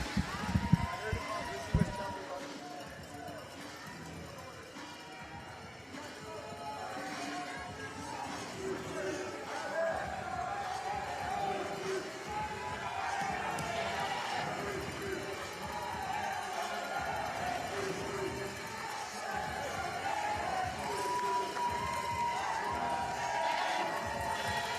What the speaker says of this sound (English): Raucous crowd here at the Vice Admiral Martin Fitness Center.